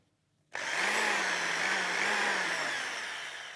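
A 650-watt electric drill spins up with no load and runs steadily, a loud continuous motor whine that starts abruptly after a short silence and fades slightly toward the end.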